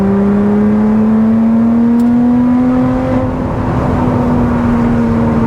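A Lotus Exige 390 or 420 accelerates hard in fourth gear, its engine a loud, steady drone that climbs slowly in pitch for several seconds, heard close up from inside the car.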